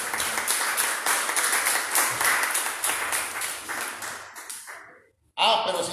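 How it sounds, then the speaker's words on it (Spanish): Church congregation claps loudly and rhythmically in praise during a service, the clapping tapering off before a voice cuts in at the end. "Dale un aplauso fuerte al Señor"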